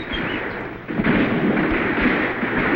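A cannon fires in an old radio drama. A heavy, rumbling blast rolls on through the whole short stretch, loud and dense, with no talk over it.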